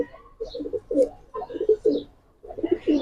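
Pigeons cooing close by in a loft in soft, repeated throaty bursts, several calls in a row with brief pauses between.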